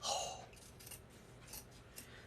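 Scissors snip through paper in a few quiet, close cuts, spaced out over a couple of seconds with a faint rustle between them.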